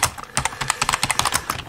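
Quick, uneven keystrokes clatter on a computer keyboard during a Raspberry Pi 4 Python session, about a dozen close clicks in under two seconds with no talk.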